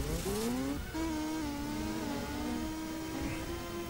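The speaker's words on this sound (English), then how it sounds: "Oh, okay, we're in a mini car." A mini car driven in the Disney Infinity Toy Box video game gives a continuous engine whine that rises in pitch as it revs up, then holds a steady drone with no talking over it.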